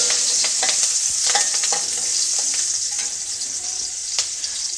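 Curry leaves and two green chilies frying hot in ghee, a loud continuous hiss and sizzle with scattered crackles and occasional stirring scrapes, close and without talk.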